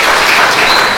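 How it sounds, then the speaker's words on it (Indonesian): Congregation applause in a church service, a dense, steady wash of clapping filling the short moment at close, loud level without pause. "Tepuk tangan dong buat jemaat di Cimahi"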